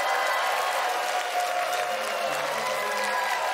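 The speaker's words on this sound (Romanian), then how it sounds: "să o primim în casa noastră cu cele mai puternice aplauze pe Alexandra Moise" Audience applause welcoming a guest named Alexandra Moise into a studio setting, steady dense clapping throughout at moderate level with a faint tonal hum underneath.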